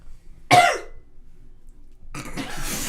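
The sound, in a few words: cough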